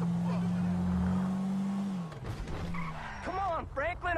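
Race cars in Grand Theft Auto 5 skid with a sustained, loud tire squeal, then engines rev and whine as the squeal drops away, with a brief voice near the end.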